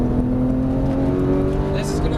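A Porsche 991 GT3 circles the Auto Club race track, its engine droning loudly and steadily under throttle while a person talks over it throughout.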